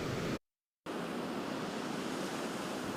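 Ocean surf breaks on a beach during a storm-threatened day with light sprinkles, a steady broad wash of wave noise cut by a brief silent gap before continuing.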